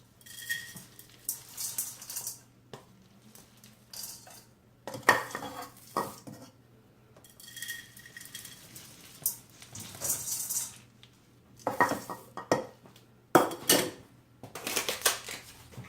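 Rolled oats being stirred into oatmeal raisin cookie dough, with repeated clinks and scrapes of a utensil against a bowl in irregular bursts, close and moderately loud, with no talking.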